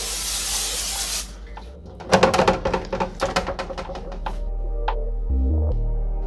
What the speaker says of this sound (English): I'm gonna go ahead and spray it down as well because we really don't want this to stick